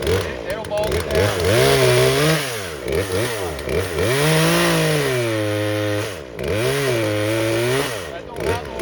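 A budget big-box-store chainsaw in a clamshell case cuts through wood. Its engine whines loudly and continuously, and the pitch swoops up and down as the saw digs in and bogs, recovering between cuts.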